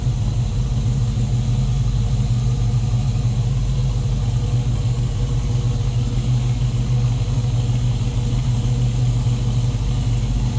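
A 1984 Chevrolet Monte Carlo with a 350 crate blueprint engine idling, a steady low rumble that stays loud and close throughout without any talk.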